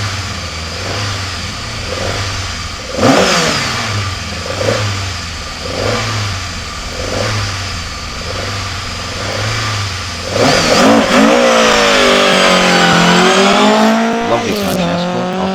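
A Mark I Ford Escort with a Pinto engine pulls hard off the line at a Longleat speed hillclimb, its mid-pitched engine pulsing in repeated rev surges before a loud, rising full-throttle wail as it accelerates away, with faint commentary underneath.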